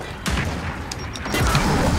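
A grenade explodes in the Gears of War 4 video game, a sudden booming burst followed by a rumbling tail and a second blast, mid-distance amid game noise.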